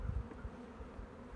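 Honey bees buzz in an opened hive on a cool early-spring day, a low, dense, steady hum close by with slight pulsing swells and no voices.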